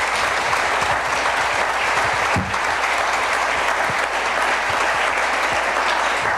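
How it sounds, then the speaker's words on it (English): A crowd at a campaign kickoff event on a farm applauds for city councilmen, loud sustained clapping from many people with a few sharper individual claps standing out. "let's give them a round of applause."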